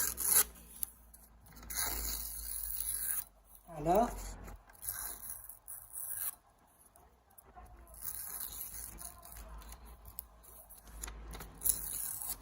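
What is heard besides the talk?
scissors cutting paper edges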